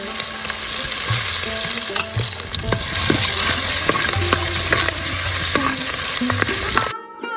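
Garlic and chilies fry in coconut oil in a clay pot, giving a loud, steady crackling sizzle with stirring scrapes; the sizzle cuts out abruptly near the end.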